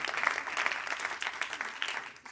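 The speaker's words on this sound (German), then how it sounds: "Komm und lass uns sie auch einen großen Applaus geben heute Morgen." Brief, soft applause from a church congregation during a Sunday morning service, a short burst of scattered clapping heard at a distance.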